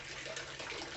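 Water splashes steadily onto an Arabian jasmine plant, a continuous hissing gush from a hose or can, close and unbroken for about a second.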